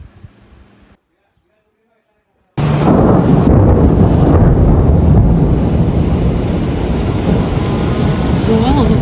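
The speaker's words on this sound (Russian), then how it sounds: "Сильный ливень и гроза." After a brief voice and a pause, a heavy downpour roars in suddenly in the Spanish Pyrenees, loud and dense with rumbling thunder and wind buffeting.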